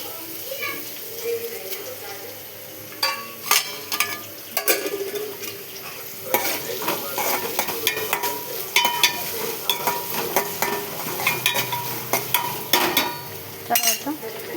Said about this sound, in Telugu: ఎండుమిర్చి వేసుకొని కలుపుకోవాలి. కొంచెం గోల్డ్ కలర్ వచ్చేదాకా వేయించుకోవాలి.